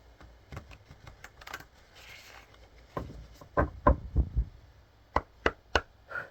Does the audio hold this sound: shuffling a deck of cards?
yes